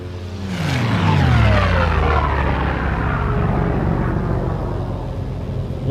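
A propeller aircraft in Microsoft Flight Simulator 2024 passes loud and close with a Doppler drop in pitch, then its engine drone holds steady with no talk.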